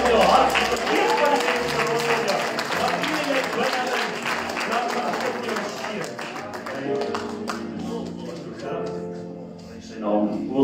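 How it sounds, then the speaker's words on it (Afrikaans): A church congregation claps and worships together, many hands clapping under singing and voices for most of the stretch before the clapping thins out toward the end. "Klap die hande, lig die hande."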